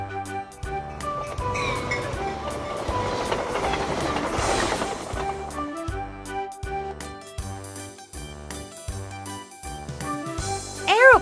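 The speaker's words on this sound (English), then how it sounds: "Steam engine." A steam engine train rumbles and clanks along, then settles into a rhythmic chuffing beat of evenly spaced puffs, ending with a rising whistle-like tone; fairly loud and close, with no speech.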